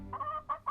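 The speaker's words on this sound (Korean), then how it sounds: "어디선가 나타난 닭 한 마리가" A chicken gives a few short clucks in quick succession, close and fairly clear, alone without talk.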